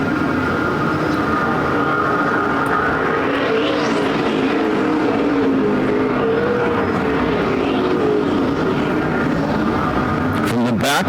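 Super stock race cars roar around Perris Auto Speedway in a main event, a continuous loud engine drone with rising and falling passes, while an announcer talks over the din throughout.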